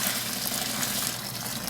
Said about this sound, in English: we'll take the remainder of the boiling water here